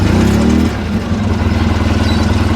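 A Polaris RZR 800S side-by-side engine idles steadily and loud up close, a low, even throb with a rougher, slightly higher note in the first half second before settling into a constant putter.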